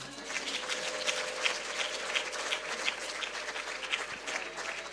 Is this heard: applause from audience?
yes